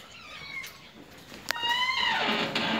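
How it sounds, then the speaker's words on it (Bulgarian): Three kittens meow in a few thin, high rising cries, near and fairly loud, with a sharp knock between calls and no talking. "Нищо, намерихме 3 котенца."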